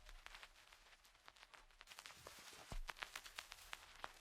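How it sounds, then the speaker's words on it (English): Quiet, irregular crackle and pops scattered over a faint hiss, sparse at first then denser, like a dusty record playing softly. "it's just a simple vinyl sound where I load the volume"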